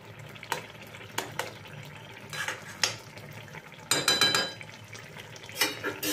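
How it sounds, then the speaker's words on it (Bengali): A spoon stirs pumpkin and Gobindobhog rice with ghee, garam masala and green chilli in a pot: irregular scraping clinks and gentle scuffs against the metal, close and moderately quiet, with faint sizzling beneath. "এবারে এটাকে ভালো করে নাড়াচাড়া করে সবকিছু মিশিয়ে দেব।"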